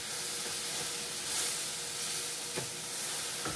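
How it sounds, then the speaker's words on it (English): A steady hiss of milk sizzling in a too-hot pan while making white sauce gravy, close and continuous, with a few soft clicks of a utensil. "because if you see your milk sizzling like that, your pan's probably a little too warm"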